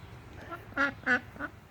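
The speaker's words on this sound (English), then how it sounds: "If you're wondering what that sound is, that is one of our ducks." A garden duck quacks a few times in quick succession, the middle two calls loudest and the others softer, heard alone at moderate distance without talk.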